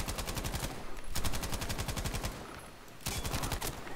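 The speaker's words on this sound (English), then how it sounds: "This gun shoots so slow, I get the illusion that it's overheated" A machine gun fires in a tank-battle video game, long rapid bursts of loud close shots with a short pause between them, and no talk.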